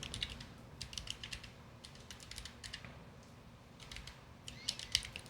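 Keystrokes on a computer keyboard while coding a SwiftUI journaling app, a steady run of light clicks in irregular bursts, close and fairly quiet over a low background hum, with a few sharper taps near the end.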